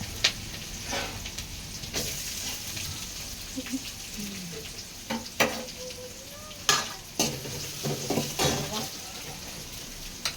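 Onion and garlic fry in a pan for mutton gravy, a steady sizzle broken by repeated scraping stirs and sharp clinks of a spoon against the pan, heard up close.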